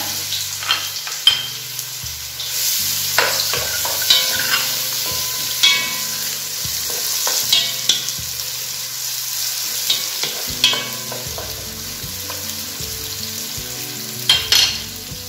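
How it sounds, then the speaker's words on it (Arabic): Sliced onions frying in hot oil in a pan, giving a continuous sizzle broken by repeated scraping and stirring strokes, close and fairly loud. "غادي نعمل الزيت هو الاولاني، وغادي نضيف عليهم بصله تشطحات"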